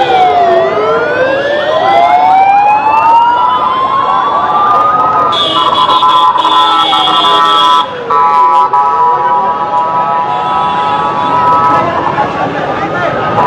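Ambulance sirens wail loudly nearby at the burn institute after a plane crash, rising and falling in overlapping sweeps as vehicles arrive, amid a murmuring crowd and voices talking.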